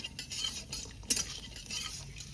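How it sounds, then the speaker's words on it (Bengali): Cashews being stirred as they fry in a pan, a steady scraping and light sizzle with one sharp clink of the utensil against the pan midway. "প্রথমে কাজু, নাড়ো নাড়ো নাড়ো"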